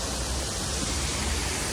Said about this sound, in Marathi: सुंदर वॉटरफॉल आहे मस्त